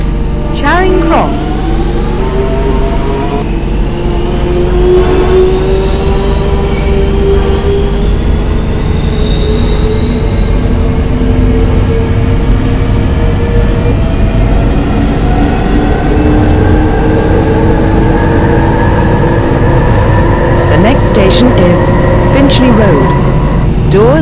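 A London Underground train runs between Neasden and Charing Cross, its loud steady rumble and rattling wheels filling the whole stretch, with squealing wheel tones rising over it. Recorded station-style announcements play over the train noise.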